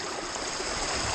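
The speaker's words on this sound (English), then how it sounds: "The water's running quite fast here" Fast-running river water rushing steadily near a gold sluice, a broad, continuous close wash with no pauses or voices.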